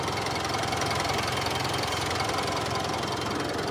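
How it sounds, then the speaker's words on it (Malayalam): A Mitsubishi Pajero Sport engine idles steadily with the AC switched off, giving a close, even mechanical hum with a faint knocking rhythm and no voices over it. "എ സി ഓഫ് ചെയ്ത് കഴിഞ്ഞ സമയത്ത് കറക്റ്റായിട്ടുള്ള എഞ്ചിൻ്റെ വർക്കിംഗ് കേൾക്കാൻ പറ്റും."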